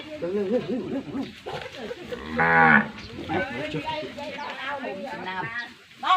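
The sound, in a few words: cow mooing during calving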